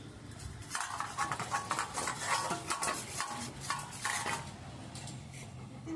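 A dog named Cash eats from a bowl, producing soft clattering, scraping and lapping noises against the dish, close and fairly quiet, steady over several seconds.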